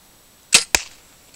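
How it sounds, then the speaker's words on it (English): Two sharp, loud impacts a fraction of a second apart as an arrow leaves the bow and strikes an archery target nearby, each a crisp whack over near silence. "it doesn't take very long to throw a few arrows down range"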